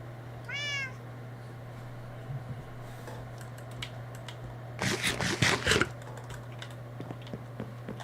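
A cat meows once in a Minecraft world, a short rising-falling call near the start, followed later by a burst of clicking keyboard taps over a steady low hum.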